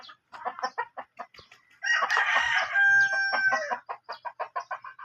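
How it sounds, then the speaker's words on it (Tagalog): Backyard chickens at a breeder's yard cluck in quick, close bursts while a rooster lets out a loud, drawn-out crow in the middle, and the clucking carries on afterward. "Marami siyang manok mga bossing."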